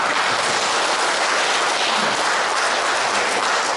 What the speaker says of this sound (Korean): 맞으시다면 다들 박수 한번 치시기 바랍니다.